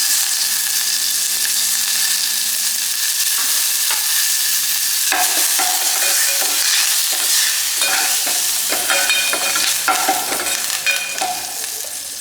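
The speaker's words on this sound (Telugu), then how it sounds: "నూనె వేడెక్కిన తర్వాత ఆవాలు జీలకర్ర అలాగే ఎండుమిర్చి కొద్దిగా పసుపు వేసుకుందాం" Mustard seeds, cumin and dried chili are tempered in hot oil for tamarind rasam, a steady close sizzle broken by sharp popping crackles and stirring scrapes.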